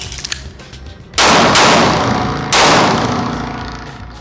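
Two loud, sharp gunshots from a Sig P320 pistol during a box drill, about a second apart, each ringing out and decaying slowly, with no voices.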